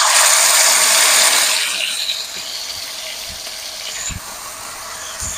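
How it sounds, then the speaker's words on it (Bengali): Shrimp kofta mixture poured into hot oil, a loud broadband sizzle that is strongest at first and then settles into a steadier, softer frying hiss with a few small pops. "তেল গরম হয়ে গেলে আমি চিংড়ি মাছের ওই মিশ্রণটাকে ঢেলে দেবো।"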